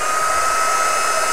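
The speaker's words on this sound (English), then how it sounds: "I'm going to give that a quick blast again with the heat tool just to make sure that it dries completely." A craft heat tool blows steadily to dry stamped background paper for a mini travel canvas, giving a constant close whirring hiss with no pauses and no talk.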